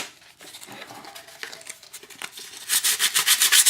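Painted surface being roughened by hand with abrasive where doubler boards will be glued on a rotor mast, steady scratchy rubbing that grows louder and more rhythmic toward the end, close up and alone.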